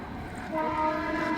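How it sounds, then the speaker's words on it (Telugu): A train passes nearby with a steady rumble, and a sustained horn-like tone swells in partway through; no talking. "వినపడుతుందా మీకు ట్రైన్ సౌండ్?"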